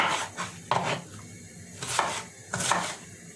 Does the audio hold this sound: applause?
no